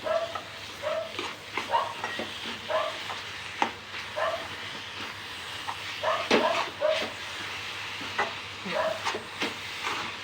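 Modak filling is stirred and mixed in a pan with a quiet background hiss, irregular scraping and clinking strokes recurring every second or so, plus a few sharper knocks.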